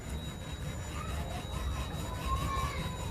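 Bare hand rubbing and blending oil pastel across paper in a village scenery drawing, giving a steady, close, soft scratchy friction that continues without pause and with no talk.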